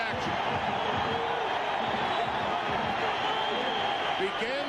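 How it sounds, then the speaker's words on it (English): Dense, steady roar of a college football stadium crowd reacting after a ball carrier is finally tackled at the 1997 Insight Bowl, Arizona versus New Mexico, a continuous wash of cheering and shouting that fills the whole stretch. "And you hear the crowd reaction"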